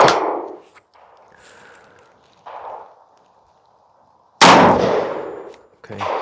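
A .357 Magnum PMC round fired from a Charles Daly 101 folding single-shot shotgun through a caliber adapter: one sharp, loud report near the end, preceded by quieter metallic clanks of loading and handling, with no talk.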